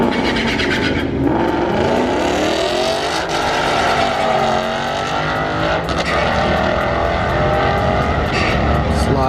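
A Mopar car slides and revs hard at a drag strip sliding event, its loud engine roaring continuously with rising and falling pitch and squealing tyres, close by over crowd noise.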